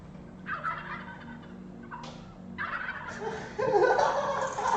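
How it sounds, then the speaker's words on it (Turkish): A male turkey gobbling, with rapid warbling calls repeating and growing louder and rougher toward the end, heard fairly close and alone. "Şimdi sana erkek hindi sesi dinletiyorum."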